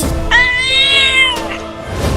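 A cartoon cat lets out one loud, drawn-out meow that rises and then holds steady, heard up close over a constant background noise and with no talking.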